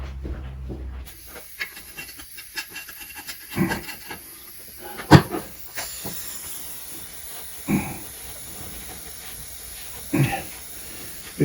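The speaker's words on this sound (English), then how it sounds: "I'm going to clean up the gasket surfaces here, maybe the drive shaft in here." Gasket surfaces on the lower unit of a 1973 Evinrude 85 hp outboard are scraped and rubbed clean, giving rasping, scratchy strokes in irregular bursts with a few louder scrapes, close by.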